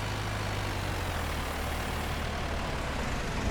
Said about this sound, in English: I like this tractor though.